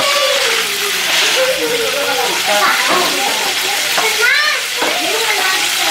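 Food browns in butter in a hot pan with a loud, continuous close-up sizzle and some stirring, while a person talks over it.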